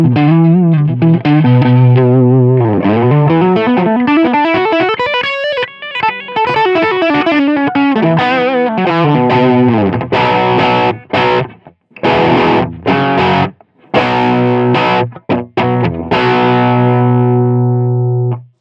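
Distorted electric guitar played through an Axe-Fx FM9 with the FAS boost on a USA Rhythm Boogie amp tone, heard as loud, close, saturated riffs and sustained chords with brief gaps of silence between phrases.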